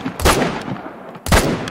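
Two loud, sharp gunshots from a Hudzik .50 caliber muzzleloader in a hunting video game, spaced about a second apart, each with a booming tail, close and alone.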